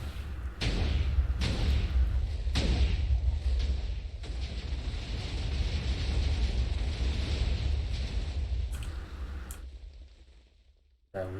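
A TNT cannon fires in Minecraft, blasting through walls with several heavy booming thuds and explosions in quick succession, then a long rumbling blast that fades out before a final short hit.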